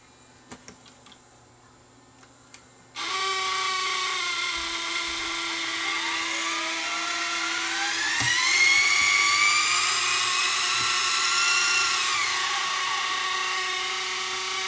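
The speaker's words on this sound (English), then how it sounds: "He said it made lots of noise in fast forward and rewind." A Sony DSR11 DVCAM video deck switches into fast forward with a sudden loud whir. A high mechanical whine rises in pitch, holds, then eases back down over steady motor noise, with no talking.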